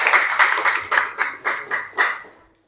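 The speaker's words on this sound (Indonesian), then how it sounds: "Tepuk tangan untuk kelompok 3." Applause for a student group at a vocational high school class presentation: a short burst of several people clapping in quick, uneven rhythm, fairly close, fading out after about two seconds with no talk over it.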